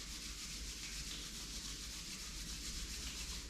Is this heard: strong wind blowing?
no